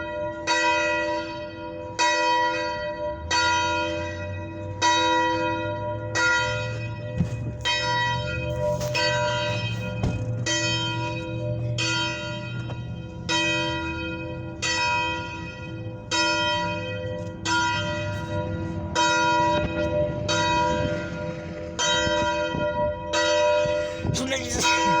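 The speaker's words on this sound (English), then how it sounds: "That's the bell." A church bell rings steadily, about a dozen evenly spaced strikes each leaving a long, shimmering ring, fairly close and clear over a low background hum.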